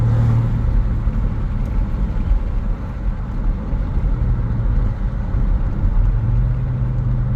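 A 1996 Chevy S10 engine fitted with a Holley Sniper idles in neutral, a loud, close, steady low rumble with a slight rise and dip in revs and no talk over it.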